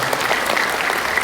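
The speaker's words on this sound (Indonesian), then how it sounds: "Mari kita beri aplaus tepuk tangan yang meriah." Audience applause at a Buddhist anniversary event in a shopping mall, a brief burst of steady, lively clapping heard alone.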